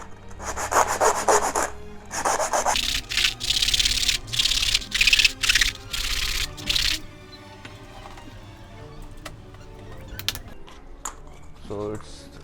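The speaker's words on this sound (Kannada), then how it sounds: "ಇದನ್ನು ಪಾಲಿಶ್ ಪೇಪರಲ್ಲಿ ಹಾಕಿ ಚೆನ್ನಾಗಿ ಉಜ್ಕೊಂಡ್ರೆ ಒಂದೇ ಸೈಜಲ್ಲಿ ಬಂದುಬಿಡುತ್ತೆ" A small wooden school project piece is rubbed back and forth on polish paper, giving loud, rhythmic scraping strokes in bursts for about seven seconds before the rubbing stops and faint handling noises remain.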